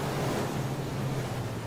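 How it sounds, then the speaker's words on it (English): Wind rushes and hisses across open sea in the video game Far: Changing Tides, a faint, steady, breathy roar with a soft low rumble and no voices. "Luckily it's still windy out there."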